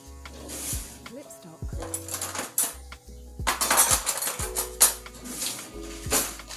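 Brown sugar topping being mixed in a bowl with a spoon, a series of irregular clinks and scrapes against the bowl, close and fairly loud, with a voice talking intermittently.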